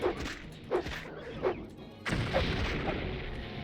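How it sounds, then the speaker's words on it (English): Explosions in the video game Morrowind, heard as several dull booming thuds about a second apart, then a heavier sustained blast that rumbles on. "That explosion startled me."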